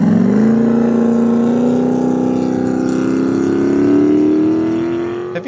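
A 2800 hp LS-powered Corvette drag racing engine holds a loud, sustained roar whose pitch climbs slowly over several seconds, then cuts off abruptly at the end.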